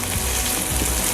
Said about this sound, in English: Let it saute along with the onions.